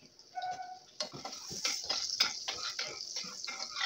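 Oil and butter are stirred together in a frying pan with a utensil, producing a busy, close scraping and sizzling clatter that starts abruptly and continues without a break.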